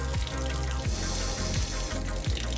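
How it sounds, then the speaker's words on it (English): Hot water runs from a tap at steady flow, a continuous close splashing rush with faint rhythmic knocks in the plumbing underneath. "Okay, this is the water test. This is the hot water,"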